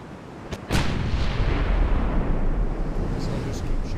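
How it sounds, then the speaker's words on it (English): Battleship guns in the naval game Ultimate Admiral Dreadnoughts fire armor-piercing shells, one loud booming salvo followed by a long rumbling roar that stays dense and heavy to the end. "I have the range to shoot at them with armor piercing."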